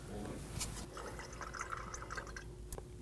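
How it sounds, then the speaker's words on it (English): Brake fluid trickles and drips from an opened bleeder valve on a 2016-2020 Kia Sorento during a front brake hose replacement, a faint, close liquid flow over a low background hum, with no talk. "we're gonna go ahead and open the valve. And what we wanna see is a steady stream of fluid and no air"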